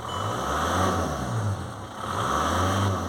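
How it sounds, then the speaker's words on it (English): A VW/Audi car engine with an alternator charging fault revs up twice as the throttle is blipped, rising from a steady idle to a louder, higher whine and settling back, close by with no talk. "Now, if I blip the throttle,"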